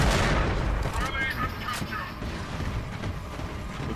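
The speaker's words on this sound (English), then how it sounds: "Stop fucking shooting me!" Gunfire in the Warhammer 40,000: Eternal Crusade game: dense, continuous battle noise with rapid shots and booms, loud and busy, with a voice shouting over it.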